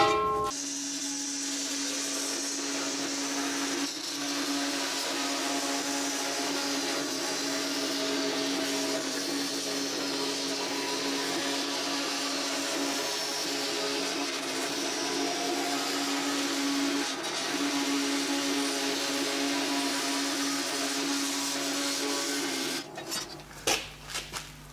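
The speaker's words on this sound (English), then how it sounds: "this is why I needed to finish off my metal cutting bandsaw" A metal-cutting bandsaw slices through aluminium sheet in a home workshop, giving a steady, close, continuous whine with a constant drone for about 23 seconds before it cuts off with a few clunks near the end.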